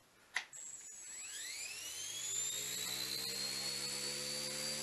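Small XK110 RC helicopter motor spinning up on a bench, with a sharp click and then a high whine that rises in pitch and settles into a steady close tone, with no voices.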